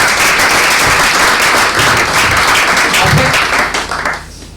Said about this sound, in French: On applaudit en même temps, on applaudit.